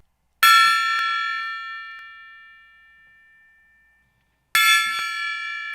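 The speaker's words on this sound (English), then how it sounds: "Do you have the beer gong?" A beer gong struck twice, each hit a loud metallic clang that rings out and fades slowly over several seconds before the next strike, with no talk.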